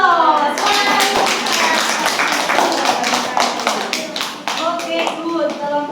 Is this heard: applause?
yes